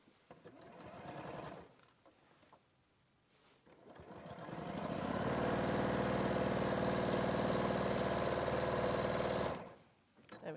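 Sewing machine stitching a quarter-inch seam on quilt fabric, a steady, fast, even whirring run of several seconds that starts and stops cleanly, with quiet handling noise and brief talk before and after.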